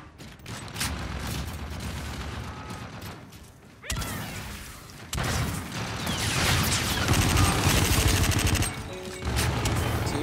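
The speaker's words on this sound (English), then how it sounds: "I'm getting sniped left, right, and center right now." Sniper fire and other gunfire crack in Call of Duty Infinite Warfare multiplayer on the Terminal map, loud bursts and sharp impacts coming in dense clusters with brief lulls between.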